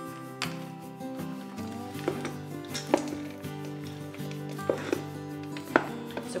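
A wooden spoon stirs caramel popcorn and Spanish peanuts in a pot, making repeated knocks and scrapes in an uneven rhythm, close up over a steady tonal hum.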